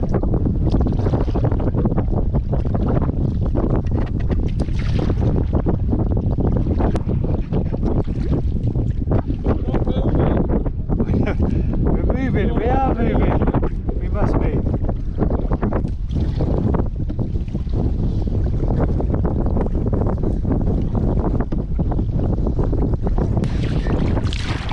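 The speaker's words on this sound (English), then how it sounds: "This is about as much wind as I reckon I can actually move forward in" Strong wind roars continuously and loudly across a microphone while canoeing on Loch Shiel, with a constant buffeting rush and gusty surges that never let up, and nobody speaks.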